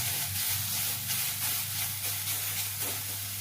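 Grated carrot stirred in a hot pan for carrot kheer gives a steady, close sizzling hiss with faint rhythmic scraping, continuous and unbroken, with no voices.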